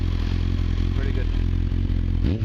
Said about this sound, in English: The engine sounds sweet, doesn't have any rattles.